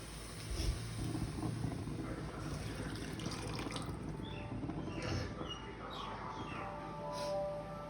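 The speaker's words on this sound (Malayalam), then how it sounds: "പുളി പിഴിഞ്ഞ് ഒഴിച്ചു കൊടുക്കാം" Tamarind squeezed in water by hand and poured, a steady wet sloshing and running-water wash with faint splashes throughout, close by, with no talking.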